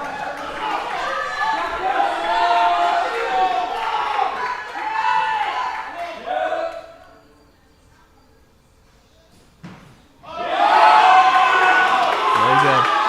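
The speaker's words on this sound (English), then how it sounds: "The crowd is getting behind her here, cheering her on." A loud weightlifting competition crowd cheers and claps for a female lifter on her third attempt. The roar fades to near quiet for a few seconds, then surges back just as strongly, with a commentator talking over it.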